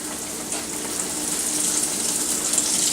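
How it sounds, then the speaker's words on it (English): Green tomatoes sizzle steadily in hot frying grease, a continuous bright crackling hiss that builds slightly in loudness as they settle into the oil, with no talking. "it's sizzling, it's nice and hot."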